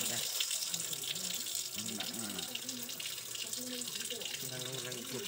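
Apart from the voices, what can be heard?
water running from a tap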